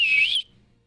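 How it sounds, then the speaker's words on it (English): A person gives a single clear high whistle, bright and close, lasting under half a second before silence. "and he whistles,"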